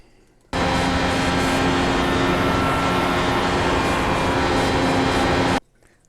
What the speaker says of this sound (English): He has the gas on full throttle